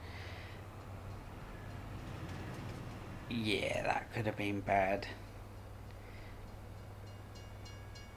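A train passes in the Farming Simulator 22 video game, its horn-like tonal sweep rising and pulsing for about two seconds mid-clip over steady low rumble, with a voice talking briefly.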